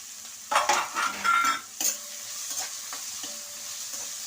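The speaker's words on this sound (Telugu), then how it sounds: "ఈ ఉల్లిపాయలు వేసేసుకుంటున్నాను." Chopped onions with green chillies drop into hot oil and sizzle, followed by a few stirring scrapes and a softer steady fry settling in the pan, no voices.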